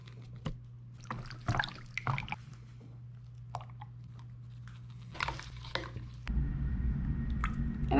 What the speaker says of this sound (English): we'll give that green a nice stir